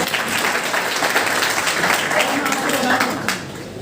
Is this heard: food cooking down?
no